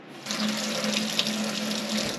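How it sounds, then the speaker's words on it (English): Water gushes from a tap in a remote cabin by a frozen lake, a steady close splashing stream that starts abruptly and runs on without talk. "I turned it on and I got water."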